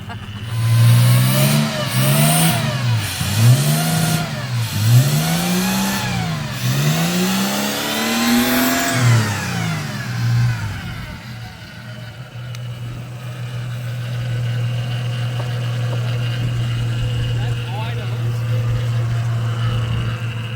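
A car running without a fuel pump is revved hard about five times in quick, rising-and-falling bursts, then settles into a steady, close idle that holds to the end.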